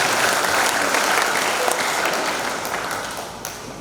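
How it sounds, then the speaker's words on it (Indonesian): Steady applause from a crowd gathered for a village health outreach event in Indonesia, loud and dense at first, then gradually thinning and fading toward the end. "Mohon tepuk tangan semuanya."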